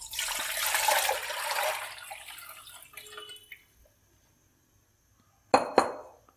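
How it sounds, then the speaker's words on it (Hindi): Strained chicken stock is poured back into a cooking pot, a continuous splashing gush that tapers to quiet, followed by two sharp metallic clinks of the pot or utensil. "अब इसी बर्तन में हम यखनी डाल देंगे जिसे हमने छाना है।"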